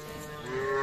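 A calf at a village calf fair in Dinajpur gives a single short, close moo that grows louder toward its end.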